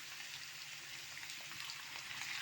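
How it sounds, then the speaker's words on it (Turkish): Potatoes fry in oil with a steady, soft crackling hiss that runs without a break and stays fairly faint, with no talking. "şunları bir kızartalım bakalım"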